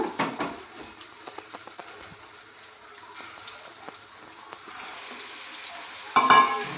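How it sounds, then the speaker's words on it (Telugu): Mutton keema balls fry in oil one by one, a soft steady sizzle with light taps and clicks as they go in, then a louder burst of crackling near the end, no voices. "సో వీటిని ఒక్కొక్కటిగా ఈ ఆయిల్లో ఇలా కాస్త మగ్గనివ్వాలి."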